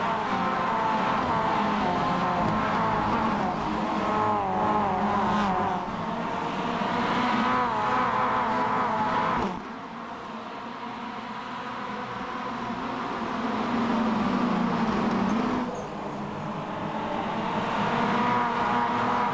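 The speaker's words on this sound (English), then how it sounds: "Let's turn up the sound of the engines and let's enjoy this restart." Race car engines roar through a restart at Martinsville in the iRacing simulator, a dense, loud engine drone that surges and drops in waves as the cars accelerate, with the pitch rising and falling across the lap.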